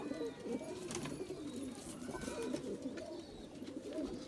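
Several Kasuri pigeons, some crossed with Rampuri, coo softly and repeatedly nearby, low throaty burbling overlapping in a continuous murmur, with a few light rustles.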